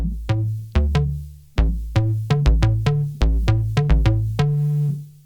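A punchy bass line from an Arturia MiniFreak synthesizer, in short plucked notes with a bouncy rhythm, each decaying quickly, playing alone with no voices.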